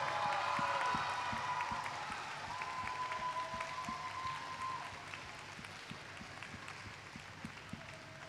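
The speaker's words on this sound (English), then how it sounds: "Keep the claps coming, keep the claps coming." Steady, dense applause from an audience at a Space Academy graduation ceremony, continuous clapping heard from a distance that holds evenly throughout with a faint high tone at the start.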